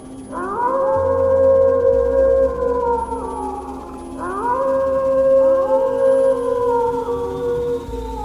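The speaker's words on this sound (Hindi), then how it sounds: "कहीं दूर से किसी सियार के रोने की आवाज आई।" A jackal howls at night in a village story: two long, wavering howls in succession, rising then slowly falling, clear and fairly loud over a quiet low background.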